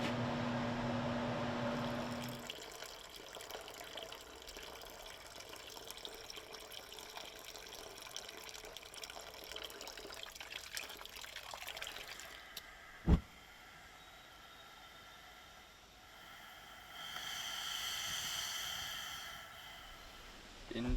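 Coffee being poured and brewed as an etching bath for a Damascus steel Persian dagger: a steady liquid rush, with a sharp knock midway and a brighter splashing stretch near the end.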